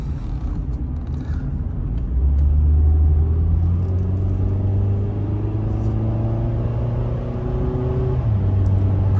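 A 2002 Honda Accord Special Edition with VTEC accelerates hard onto a freeway. The engine drone swells and climbs steadily, then a gear change drops it near the end, all heard loudly from inside the cabin.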